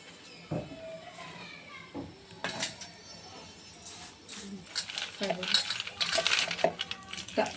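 Small hard clinks and taps as sesame seeds and peanuts drop into a metal mixer jar, scattered irregularly with a brief rattle, fairly close.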